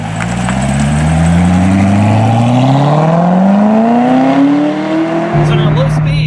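Chevrolet Corvette ZR1 driven on ordinary roads, its engine loud and close, rising steadily in pitch through the gears with a continuous rumbling drone, then dropping to a lower steady tone near the end.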